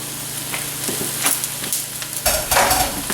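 Three pounds of browned ground beef stirred back into a pot of taco soup, with a close, steady sizzle broken by several scraping, sloshing stirs.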